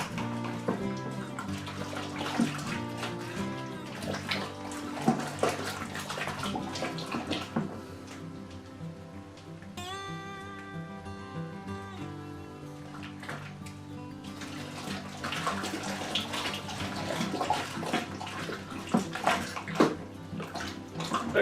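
A ladle working through an apple rye whiskey mash in a pot, with continuous watery sloshing and swirling that holds steady for about twenty seconds, fairly faint and with no talking.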